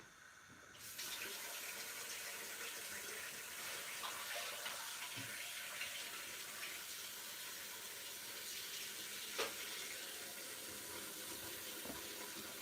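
Water runs steadily from a tap into a sink for rinsing wool during dyeing, a continuous broadband splashing rush that stays loud and even throughout, with a few faint clinks near the end.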